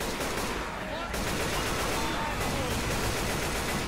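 Dense, relentless automatic gunfire in Left 4 Dead 2, a loud continuous rattle of rapid shots with a short dip about a second in, with voices faintly underneath.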